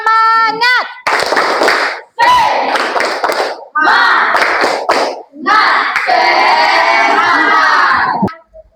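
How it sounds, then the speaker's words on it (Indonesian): A classroom of Indonesian students performs a rhythmic spirit clap, bursts of quick hand claps alternating with loud group chants and shouts, repeated in several energetic rounds before stopping abruptly. "Tepuk semangat."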